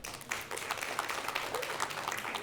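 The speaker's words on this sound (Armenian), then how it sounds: "ծափերով" Stand-up comedy audience applauding at a club show, a steady dense wash of clapping that holds evenly throughout at moderate level.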